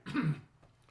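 A single short cough or throat clear, close and fairly loud, followed by quiet.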